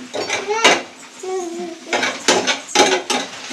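Eggs are being mixed with salt, turmeric and red chili powder for egg bhurji, with clinks and scrapes of utensil on a bowl in short bursts, while someone talks over the mixing.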